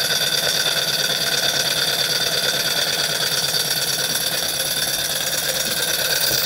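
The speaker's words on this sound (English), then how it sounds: "Turn our generator back on" A generator engine runs steadily close by, a loud, even mid-pitched drone with a faint knocking pulse throughout and no voices.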